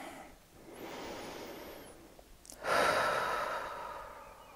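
A slow, steady exhalation made while seated during a relaxation exercise, a soft breathy rush that starts faintly, pauses briefly, then swells louder and fades out, alone with no talking.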